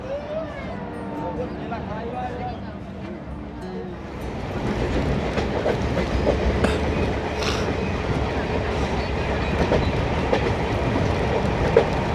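The LHB-coached 13173 Kanchanjungha Express runs steadily with a continuous rumble and rhythmic clickety-clack of wheels, loud and close from on board, with no voices.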